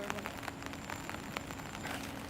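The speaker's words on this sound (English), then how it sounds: "It's a rainy day in Prague." Rain falling in Prague Old Town, a soft, steady patter of drops on hard surfaces with scattered closer taps, faint and continuous with no talking.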